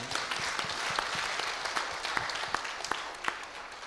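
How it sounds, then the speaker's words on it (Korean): Church congregation applauding during an Easter Sunday worship service, a steady wash of many hands clapping at moderate distance for several seconds without talk. "한번 하나님께 영광의 박수 올려드리겠습니다"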